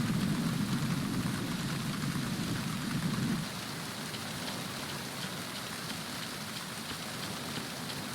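Steady heavy rain in the video game Metal Gear Solid 2, on a tanker ship, hisses throughout, with a louder drumming patter close by for the first few seconds before settling into a continuous downpour.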